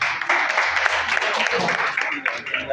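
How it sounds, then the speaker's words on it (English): Audience applause for a child after a classroom-style quiz at a live community broadcast, a steady, dense wash of clapping for a few seconds with crowd murmur mixed in. "A round of applause for him."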